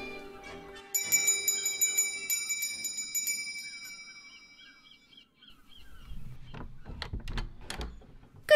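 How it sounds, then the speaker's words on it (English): A doorbell at a house door rings out in a bright sustained chime that slowly fades, followed by a door sliding open and soft footsteps and rustling as a scene in a radio drama continues. "I rang the bell."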